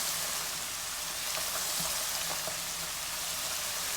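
Onions, green chillies, mustard seeds and fennel seeds sautéing in a pan, a soft, even crackling sizzle like light rain with a few faint pops, no speech.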